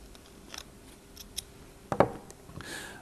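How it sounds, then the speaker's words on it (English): A cutting tool deburrs the inner conductor of an RF coax connector: a few faint small snips and clicks, then a sharper crisp cut near the end, all close and quiet. "And we start off by deburring the inner."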